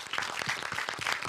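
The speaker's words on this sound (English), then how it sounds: "let's give ourselves a big round of applause" Faint, brief applause from a hackathon audience, quick scattered claps with no voices over it.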